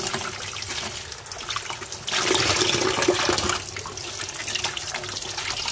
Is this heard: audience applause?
no